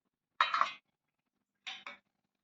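Masala paste and yogurt being stirred into brinjal for biryani, heard as two short bursts of metal utensil clinks and scrapes against a pot, separated by a pause.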